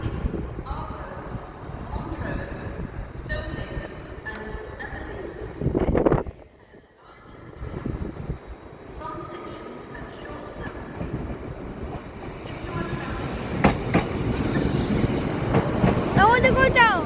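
A Northern train service bound for Hexham pulls into a station, its wheels and carriages rumbling steadily with clatter and brief squeals, building in loudness as it arrives, while a person talks over it.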